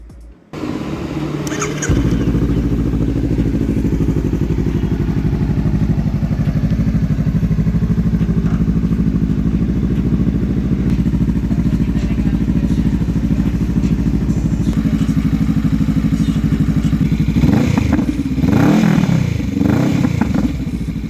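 Honda Rebel 500 entry-level cruiser motorcycle being ridden, its engine a loud, steady close-up drone with a rev change near the end, wind and road noise underneath.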